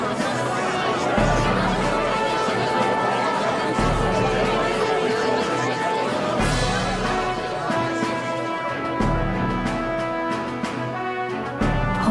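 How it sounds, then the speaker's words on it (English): A large crowd murmurs at a royal coronation in the video game Metaphor: ReFantazio, a dense, steady babble of many voices over a soft music-like background, with nearer speech mixed in. "There's a lot of people in the crowd."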